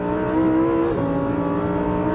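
Lamborghini Huracan V10 engine held at low revs on a race track, a steady, loud, close-up rumbling drone with rich layered harmonics and a slight pitch dip midway, with no talking.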